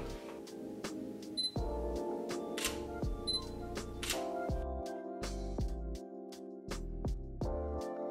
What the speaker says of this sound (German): Dann benutzen wir unsere Kamera.